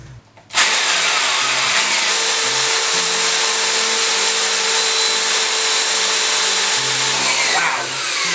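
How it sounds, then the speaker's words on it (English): A power drill starts abruptly and whines steadily at high speed as it bores through the solid wood of an old desk, sustained for several seconds before easing off. "we're going to drill through right about now"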